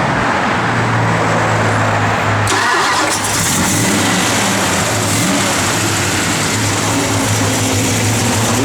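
A cammed 1969 Dodge Dart GT engine catching after a brief crank, then settling into a loud, close, lumpy idle rumble that continues steadily with no talking.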